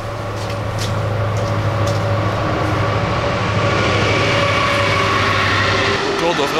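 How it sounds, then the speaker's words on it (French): A train rolling past at a flooded military vehicle graveyard, a loud continuous rumble with a steady low hum and rattling wheels that holds for several seconds before easing off. "Là, il y a encore un train qui arrive."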